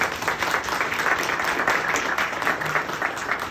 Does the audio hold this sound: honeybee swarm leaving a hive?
no